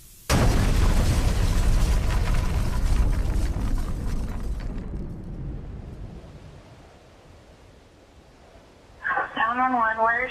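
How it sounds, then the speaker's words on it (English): A propane tank explodes and levels a store, a loud, sudden deep boom that rumbles and slowly fades over several seconds, followed by a voice speaking briefly near the end. "the propane found an undetermined ignition source and exploded."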